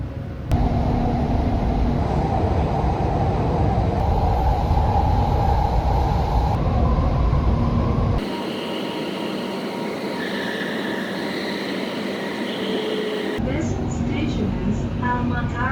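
Steady rumbling ride aboard a metro train bound for The Pearl, an artificial island, with a continuous low roar of wheels and motor that shifts as the carriage moves, some faint chatter mixed in.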